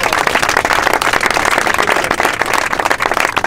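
An audience applauds a firefighter colonel, loud, dense and continuous, with a crowd murmur mixed in and no clear individual claps standing out.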